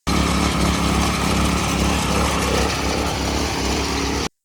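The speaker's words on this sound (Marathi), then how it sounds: "आता वेगामध्ये हे मशीन कसं चालतंय" A small power weeder engine runs steadily at high revs, a loud continuous droning rattle close by, cutting off abruptly at the end.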